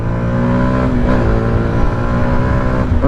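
A Yamaha MT-125 motorcycle engine revs and pulls steadily with a loud, close drone, its pitch dipping and climbing briefly before settling back into a constant hum.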